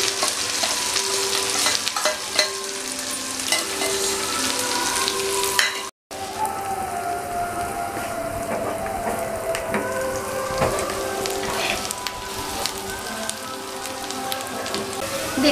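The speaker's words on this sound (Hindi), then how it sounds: "प्याज लहसुन अदरक सब अच्छे से भुन गया है" Onion, garlic and ginger frying in a pan for dal, a dense, rain-like sizzle that runs steadily with occasional stirring scrapes, close and loud, with one brief dropout partway through and no speech.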